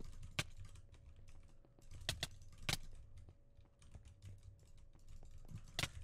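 Rapid mouse and keyboard clicking during a Minecraft Bedwars match, a quiet, irregular stream of light taps with a few sharper clicks, close to the microphone and without speech.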